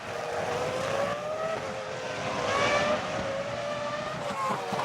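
Formula One cars from 2004, a McLaren and a Sauber, race on track, their high engines whining and shifting pitch as they pass at moderate distance, continuous throughout.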